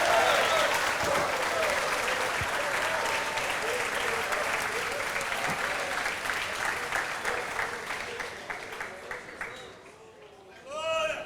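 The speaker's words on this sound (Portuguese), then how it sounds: "Palmas para o Senhor." A church congregation applauds loudly and steadily during worship, then the clapping thins out and fades, with a voice speaking at the end.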